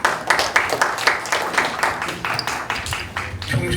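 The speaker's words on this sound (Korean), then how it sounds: "박수 한번 쳐주시죠." A congregation at a Korean prayer meeting claps in a fairly slow, regular rhythm of distinct beats, a voice talking over the clapping.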